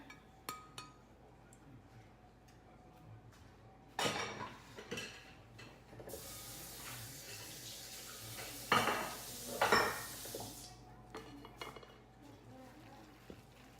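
Cornbread dressing mixture for a Southern Thanksgiving meal being stirred with cooked celery and onions, a spoon clinking and scraping against a bowl in a few bursts over a quiet kitchen background.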